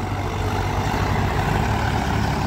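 A tractor engine runs loud and close with a steady low rumbling drone and dense throbbing, continuous throughout with no talk.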